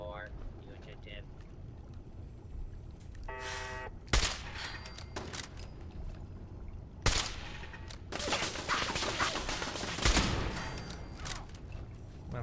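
Rapid automatic gunfire from a weapon in Fallout 4 (Automatron), coming in several dense, loud bursts around a few sharp single reports.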